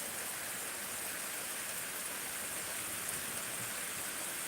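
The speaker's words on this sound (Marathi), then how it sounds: "एक तासभर सुंदर पाऊस पडत आहे" Steady, dense downpour of heavy unseasonal pre-monsoon rain over farmland on a windless day, a continuous close hiss of water on surfaces with no break and no voices.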